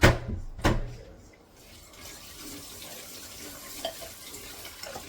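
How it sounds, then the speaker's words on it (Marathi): Vermicelli roasts in homemade ghee in a pan. A couple of sharp metallic clanks come first, then a low, steady sizzle with faint stirring carries on throughout. "शेवया थोडेसे भाजून घेते भाजलेले आहे पण थोडे भाजून घेते तर इथे तूप टाकते"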